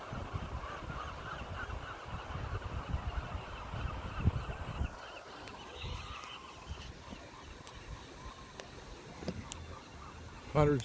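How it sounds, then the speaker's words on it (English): Seagulls calling from the rocks at Morro Bay, where hundreds of birds rest and nest: honking, squawking calls come from a distance over steady wind and surf noise, with some voices nearby. "Hundreds of birds up there on the little places in the rocks."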